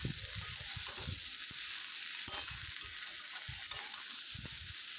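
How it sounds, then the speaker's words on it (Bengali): Elephant foot yam and prawns sizzle steadily in a hot pan while a spoon stirs them, giving repeated scraping and clattering bursts; no one speaks. "দিয়ে এবার আমি পুরোটা ভালো করে নাড়তে থাকবো।"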